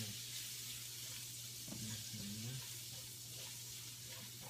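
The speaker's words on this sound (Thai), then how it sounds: "ต่อไปนะคะเราก็กระเทียมนะคะ แล้วก็ พริกไทยแล้วก็รากผักชีที่โขลกนะคะ เราไปผัดเลยนะคะ" Garlic, pepper and pounded coriander root stir-frying in a pan, a soft, steady sizzling hiss that stays faint and continuous throughout with a low hum underneath.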